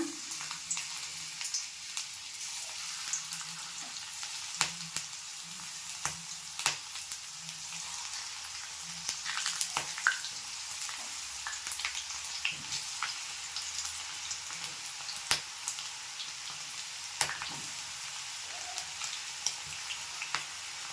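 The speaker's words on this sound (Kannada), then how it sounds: "ನೋಡಿ, ನಮ್ಮ ಎಣ್ಣೆ ಕೂಡ ಇಲ್ಲಿ ಹದವಾಗಿ ಕಾದಿದೆ. ಇವಾಗ ಒಂದೊಂದಾಗಿ ಬಿಟ್ಕೊತ ಹೋಗೋಣ." Okra fries in hot oil as a steady, dense sizzle with crackling pops scattered throughout, continuous and moderately loud without any talk.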